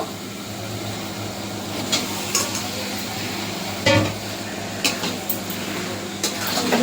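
Meat stirred and fried in a pan, with a steady sizzle beneath repeated scraping stirs and occasional clinks of a utensil against the pan.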